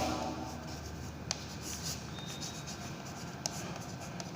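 An equation is written on a board during a physics lesson, producing a soft, continuous scratching of strokes with a couple of sharp taps, heard close by without talking.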